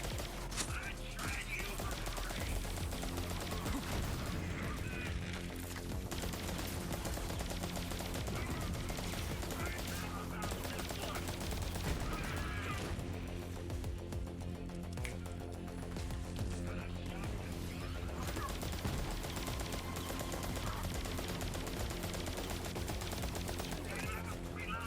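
Sustained gunfire from the Maliwan OPQ System gun in Borderlands 3, level 57, a steady stream of rapid shots mixed with game effects and music, loud and continuous throughout.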